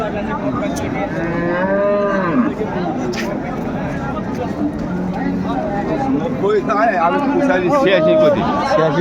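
Cows and calves lowing and mooing amid a busy crowd at a cattle market in Dinajpur, Bangladesh, with people chattering and haggling nearby.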